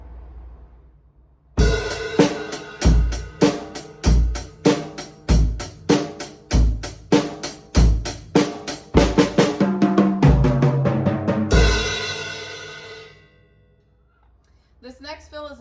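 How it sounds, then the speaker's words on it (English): A drum kit plays a full-measure triplet fill, a rapid, even run of loud close-miked strokes rolling around the drums for about ten seconds, then ending on a crashing cymbal that rings and fades. "So here's a triplet full measure fill."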